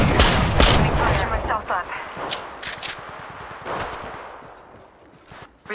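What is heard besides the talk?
gunfire in the video game Apex Legends Mobile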